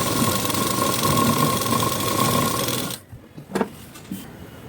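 A sewing machine stitches a folded blouse lining piece, its steady motor whir running loud and continuous before stopping abruptly, followed by a few faint handling clicks.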